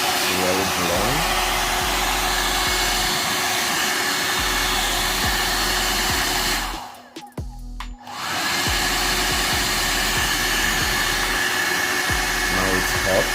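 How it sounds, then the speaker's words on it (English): A VGR V431 hair dryer blows with a steady, loud whoosh and hum, cutting out briefly in the middle before starting up again at full power. "so I just plug it in now, and let's hear how it sounds. Okay. It's really blowing."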